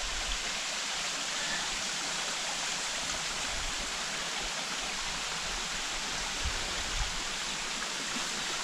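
A small waterfall on Mount Greylock, running low, gives a steady, even rush of falling water that holds close and unbroken throughout.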